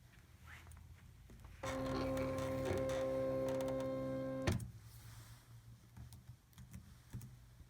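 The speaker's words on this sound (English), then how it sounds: "I'm simply going to load it into the cutter." An electronic cutting machine loads a fabric-covered mat, giving a steady motorized hum with whirring tones for about three seconds and ending in a sharp clunk, with faint rustles before and after.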